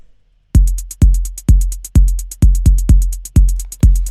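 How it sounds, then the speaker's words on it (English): A 128 BPM techno drum pattern: booming 808 kicks land on a steady four-on-the-floor pulse with crisp, bright closed hi-hats ticking between them, loud and dry, with no voices. "this is our main techno beat"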